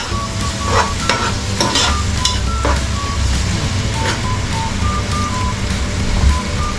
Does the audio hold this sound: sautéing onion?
yes